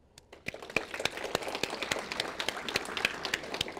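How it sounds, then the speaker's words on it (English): Sparse audience clapping after an acknowledgement of forestry and natural-resources partners, quiet and somewhat distant, starting with a few scattered claps and building into a light, uneven round of applause. "I'd like to give a round of applause"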